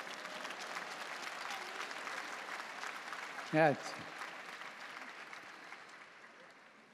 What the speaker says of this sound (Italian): Un applauso a tutti gli Antoni